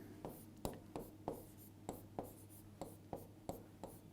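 Letters written by hand in a reasoning lesson: close, quiet scratchy strokes of pen on paper, a steady series of about a dozen short marks with brief pauses between them, no talk.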